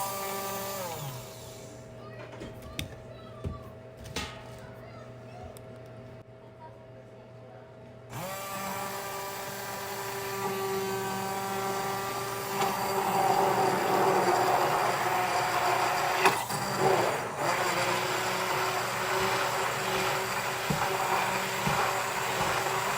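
Hand blender in a home kitchen during a day of preserving garden produce, a steady, high-pitched electric whine that starts, then grows louder and rougher as it works through food, with faint talk early on.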